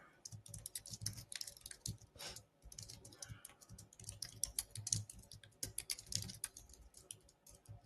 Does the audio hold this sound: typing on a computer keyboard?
yes